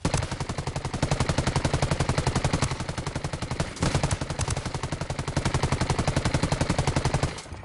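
Controlled bursts of rifle fire from Ghost Recon Wildlands, loud, rapid, evenly spaced shots filling most of the clip, broken by a brief pause near the middle and ending after about seven seconds.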